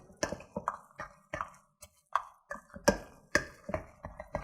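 Cheesy mashed potatoes are stirred in a Ninja Foodi pot. A utensil knocks and clinks against the pot in a steady, uneven rhythm of sharp taps, close and fairly quiet, with no talking.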